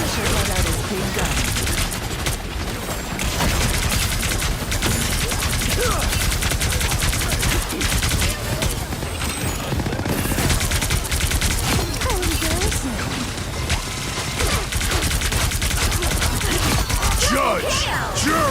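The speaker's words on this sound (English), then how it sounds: "Punisher let out his big gun" Punisher unloads his big gun in a superhero video game, a dense continuous barrage of rapid gunfire and crashing impacts running the whole time, loud and layered with game effects and shouted character voices.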